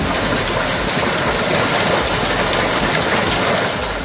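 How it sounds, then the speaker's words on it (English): Heavy storm rain pouring down in Bergheim, Germany, a dense, loud, unbroken hiss and roar of water with no voices. "where in addition to the heavy rain, an impressive hailstorm fell"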